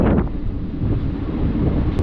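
Wind blowing dust and ash across a railway area, heard as a steady, rushing roar buffeting the microphone for the whole stretch, with no voices.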